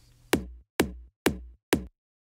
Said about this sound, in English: A kick roll, a filtered kick.